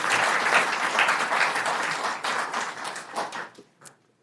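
Applause fills a city council meeting chamber, a dense burst of clapping that thins out and fades to a few scattered claps near the end.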